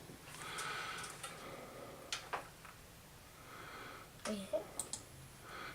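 Computer mouse clicks while using a Kano-built Raspberry Pi computer: a few sharp, close clicks scattered over a noisy room background, with a faint voice in places.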